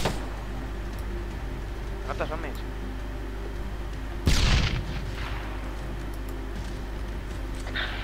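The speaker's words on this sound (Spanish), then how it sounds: "Los disparos provenían de rumbo 200, cambio." Gunfire in the military shooter ArmA III during a night operation: a single sharp, loud burst with a brief rolling tail stands out midway over a steady low rumble, with faint softer pops earlier.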